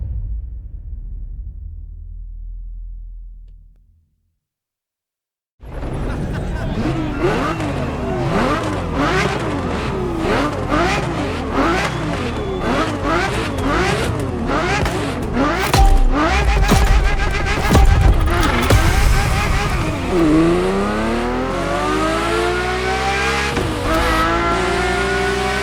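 Ferrari F50 engine in The Crew Motorfest, loud and continuous after a brief silence, revving up and down through gears with tire squeal, ending in a long rising acceleration.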